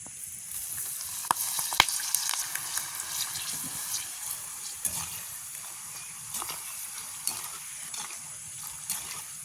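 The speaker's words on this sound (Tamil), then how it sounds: "மோர் மிளகாயை வந்து பொரிச்சு எடுத்துட்டோம்னா சாப்பிடலாம்" Buttermilk chillies fry in hot oil with a soft, constant crackling sizzle and occasional sharper pops, heard alone and fairly close.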